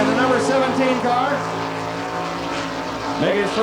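Joey Saldana's number 17 sprint car blasts around a half-mile dirt track in Belleville, Kansas, the engine howling loud and close with sweeping pitch changes as it accelerates through the turns.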